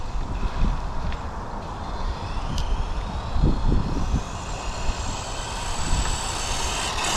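DeAgostini Subaru WRX rally car radio-controlled model at full throttle with a faulty ESC cutting out, a steady, fairly distant whirring drone with a faint rising whine, over wind noise and outdoor rumble.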